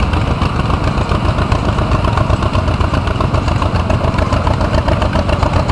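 A 1937 John Deere Mini tractor engine runs steadily at a close, loud idle, with a continuous low chugging clatter and vibration throughout and no talking.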